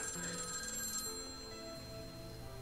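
A telephone rings inside a classroom in the video game Tokyo Babel. The ring is steady and continuous, with bright layered tones held over a low musical background, and nobody speaks.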